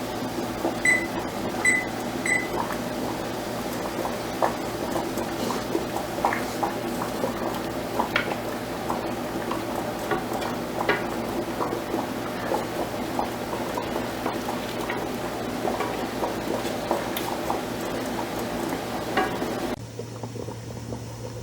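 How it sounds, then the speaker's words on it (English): Jalapeno syrup bubbles at a hard boil in a pot on a high stovetop burner, a steady close bubbling and gurgling with a constant hum underneath and occasional faint clinks, no voices. "We're going to let this come to a hard boil for 6 minutes."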